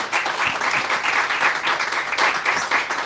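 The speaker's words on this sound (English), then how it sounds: "another big round of applause for Dr. Magona." Audience applause for an honored author at a literary event, a dense, steady wash of many hands clapping that stays loud and even for a few seconds with no talk over it.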